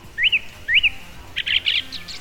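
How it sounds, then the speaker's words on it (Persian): AI-generated deepfake birdsong: two clear rising chirps, then a quick series of brighter twittering bursts, moderately loud with no voices. "کسی که به آواز پرنده ها وارد باشه میتونه صدای واقعی رو از تقلید تشخیص بده"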